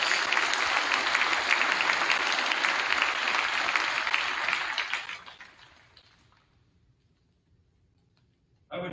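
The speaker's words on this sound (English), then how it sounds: "Please help me thank them for their service by giving them a round of applause." At a 2024 Cambridge Public Schools graduation ceremony, a large audience applauds armed forces members in a dense, steady round of clapping that lasts about five seconds, then thins out and trails off into near quiet.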